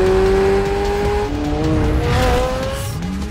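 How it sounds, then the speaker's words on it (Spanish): A sports car engine roars loudly nearby, its pitch holding steady then dropping and climbing again as it revs, with a faint tire squeal. "El sonido de este carro es incomparable con ningún auto americano nunca antes visto"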